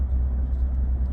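Ford PowerBoost hybrid pickup truck driving down the road in normal mode, a steady low road and engine rumble from inside the cab, continuous and even with no voices.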